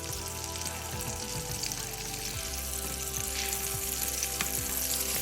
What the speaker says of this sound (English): we're going to put the meat side down first. Okay. And we're going to saute it probably 9 minutes